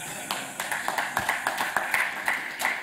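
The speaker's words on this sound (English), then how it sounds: "Could we hear an applause for that?" Sparse clapping from a small audience at a conference lightning talk, a handful of distinct hand claps at an irregular rhythm, fairly faint and brief.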